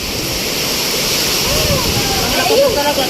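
Loud roaring gusts of strong typhoon wind rushing continuously through trees, with a voice speaking over the howl.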